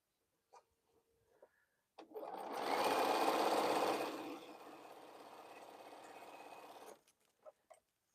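A sewing machine joins quilt pieces in one continuous run of about five seconds, loudest early and then steady, with faint clicks and handling noises before and after.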